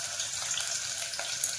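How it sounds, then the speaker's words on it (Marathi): Half a bowl of onion frying in two spoons of hot oil for home-style mutton, a close, dense sizzle with light crackle throughout, no talk. "याच्यात घालते अर्धी वाटी कांदा।"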